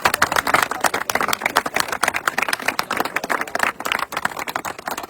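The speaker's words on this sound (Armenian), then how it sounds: "ծափահարեք, ապրեք" Applause from participants at an outdoor litter clean-up event, a dense, steady burst of many hands clapping throughout, fairly loud and close, with no talking over it.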